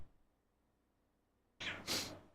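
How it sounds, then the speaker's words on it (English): A brief pair of cat meows, faint and somewhat distant, following near silence. "I hear you, kitties."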